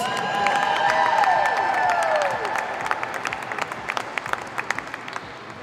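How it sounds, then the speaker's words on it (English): A crowd applauds and cheers the men's synchronized diving champions at the USA Diving Winter Nationals, with steady, energetic clapping, shouts and swooping whistles that gradually thin into scattered claps. "One more round of applause for the men."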